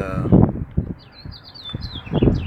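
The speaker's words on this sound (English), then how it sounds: "Birds are singing" Birds chirp and warble outdoors on a cool, windy morning, with several thin, bright trills and short calls scattered across a few seconds over a low rush of wind.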